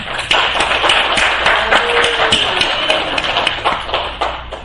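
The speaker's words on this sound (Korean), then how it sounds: "이 땅에 오신 예수님께 영광의 박수를 드립니다" A church congregation at a Christmas service claps together, a loud, steady wash of many hands tapping in fast irregular rhythm with some shuffling, sustained evenly without speech.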